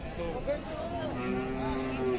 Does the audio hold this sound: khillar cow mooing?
yes